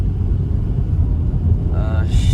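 A Honda Accord with a JDM K24 engine swap drives along, giving a steady, loud low rumble of engine and road noise with a brief rising whine near the end.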